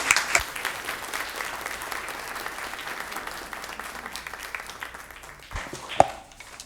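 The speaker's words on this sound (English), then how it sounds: "Let's give it another round of applause" A school board meeting audience gives a round of moderate applause, steady overlapping claps that gradually thin toward the end, with a couple of sharper knocks near the close.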